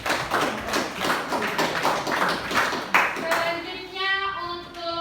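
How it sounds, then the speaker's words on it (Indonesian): A classroom of students gives a short round of applause for a student group, rhythmic claps rising in waves for about three seconds before fading as a teacher's voice takes over. "Tepuk tangan untuk kelompok komplikasi."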